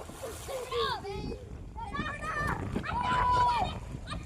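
Children splash and slosh in a village river, with bursts of churning water under lively kids' voices chattering and calling out nearby.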